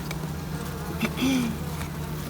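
Honey bees buzzing around an open hive during a honey harvest, a dense close hum with individual bees droning past.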